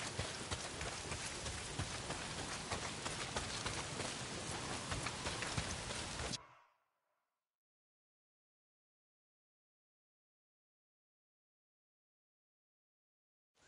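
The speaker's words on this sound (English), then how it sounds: "not if it's pissing down rain" Heavy, steady downpour in the Days Gone video game, a dense loud hiss of rain lasting several seconds before cutting off abruptly into silence.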